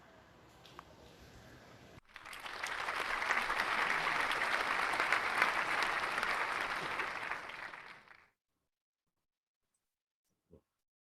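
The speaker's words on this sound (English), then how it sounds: "So I will make sure that my claps, my applause is matching the image." Applause from a crowd swells in after a quiet stretch, holds as a dense wash of clapping for about six seconds, then cuts off abruptly into silence, followed by one faint tap.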